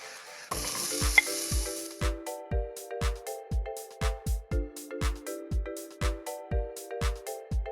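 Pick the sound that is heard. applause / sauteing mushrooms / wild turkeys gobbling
sauteing mushrooms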